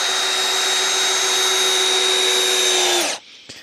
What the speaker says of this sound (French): Donc voilà, donc là un perçage, enfin plutôt un vissage relativement facile